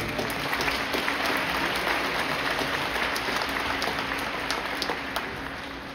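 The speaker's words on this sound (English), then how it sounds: "So give them all a round of applause if you will." Steady applause from an audience at a middle school moving-up ceremony, a broad wash of clapping heard at moderate level and slowly fading toward the end, with no talk over it.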